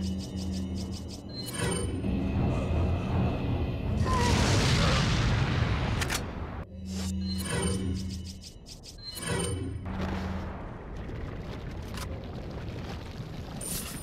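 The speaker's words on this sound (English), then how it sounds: "Another grenade? I'm gonna use this" Grenade blasts boom through Resident Evil 4 gameplay, several heavy low rumbling explosions spread across the stretch, one long roaring burst near the middle, with short sharp game hits in between.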